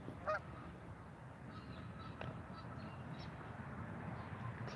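Geese fighting outdoors, honking in short, faint, scattered calls at a distance over a low, steady ambient background, with no talking.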